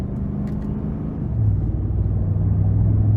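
Low, steady engine rumble from a 2015 Ford F-150 Lariat with the 5.0 V8 heard from inside the cab, the drone swelling slightly as it moves through manual-mode gear changes.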